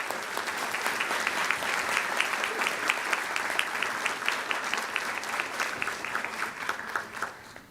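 Steady applause from an audience at an annual general meeting, many hands clapping densely and evenly for several seconds before tapering off near the end.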